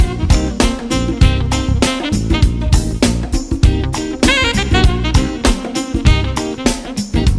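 A saxophone plays a bluesy blues-scale lick, with quick runs over a loud, busy backing groove and punchy drum hits throughout.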